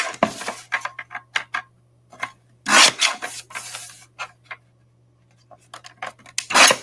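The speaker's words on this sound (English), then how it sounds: "All right, cut this to size." Scissors snip card stock being trimmed to size for an artist trading card at a craft table, giving a series of short, close cutting and rubbing sounds with brief pauses, and a louder crunch near the middle and at the end.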